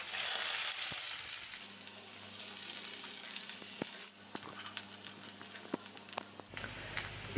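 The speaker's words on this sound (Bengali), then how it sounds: "পেঁয়াজটা একটু ভাজা হয়ে গেছে" Small-chopped onions fry in a pan with cumin, cloves, cardamom and cinnamon, a soft, close sizzle punctuated by the scattered taps and scrapes of stirring.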